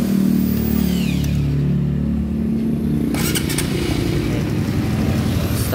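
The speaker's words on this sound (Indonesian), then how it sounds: "Dikarenakan akinya sudah dipasang dan ada setrumnya, jadi kita starter saja" A Honda CB150R motorcycle engine is cranked on its electric starter and catches, then idles in a steady, close, loud mechanical rumble with some clatter, no voices.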